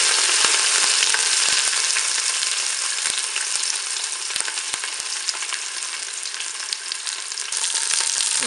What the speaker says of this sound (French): Mon huile est chaude, je vais pouvoir faire dorer mon rôti sur toutes ses faces.